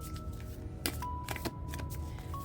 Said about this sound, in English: It's hard to even shuffle them that way.